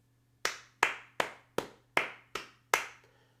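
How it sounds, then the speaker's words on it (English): Seven sharp, close hand claps land one by one at a slow, even pace, each cutting off cleanly, over a steady low electrical hum with no voices. "A clap for our fallen heroes."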